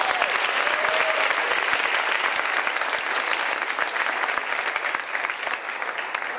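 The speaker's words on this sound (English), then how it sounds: "So another round of applause for honorees" Steady audience applause for honorees at a social justice event in New York City, dense and even throughout, with no voices standing out.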